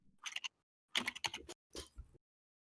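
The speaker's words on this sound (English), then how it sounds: "We just listen to the sound of your typing while we wait." Typing on a computer keyboard, three short bursts of rapid clicking keystrokes close by, separated by brief pauses.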